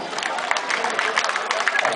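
An audience in a hall applauds after a bojutsu kata demonstration, a brief patter of clapping blended with crowd murmur and nearby voices.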